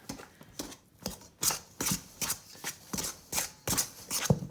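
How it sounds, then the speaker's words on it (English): A pastry blender works shortening into flour in a bowl, giving a steady series of soft, crisp cutting strokes at a regular rhythm, close and fairly quiet, with no talking. "you can either use 2 knives, working them together to cut your shortening into your flour, or a pastry blender"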